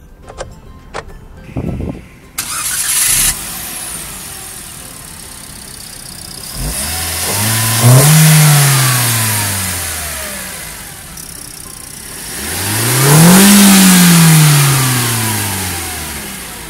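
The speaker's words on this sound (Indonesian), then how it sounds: "Sekarang kita pengen coba startup dulu mesin 1200 seperti apa" A 2020 Daihatsu Ayla facelift's 1200 cc engine cranks and starts, then revs twice, each rev climbing sharply and falling back to a steady idle, close and clear.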